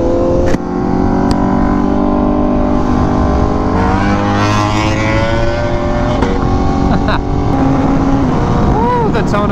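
A Honda CBR Fireblade SP sport motorcycle's engine runs steadily close by, holding a smooth, rich tone with a few rising and falling revs toward the end, continuous throughout.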